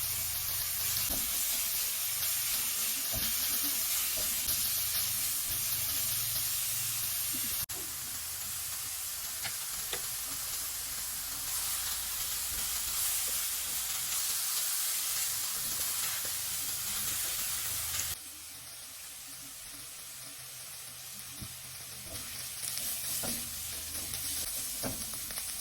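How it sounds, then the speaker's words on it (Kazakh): Chopped onion, carrot and garlic frying slowly in hot oil for buckwheat cutlets, a steady close sizzle and hiss with occasional stirring, no talk. "Қызып тұрған майымызда жаңағы турап алған пиязымызды, сәбізімізді және сарымсағымызды салып, жақсылап баяу отта қуырамыз."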